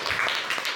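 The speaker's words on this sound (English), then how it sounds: "Please give a thunderous round of applause for all the table topics." An audience at a youth leadership meeting applauding the table topics speakers, a brief dense burst of clapping with a faint voice underneath.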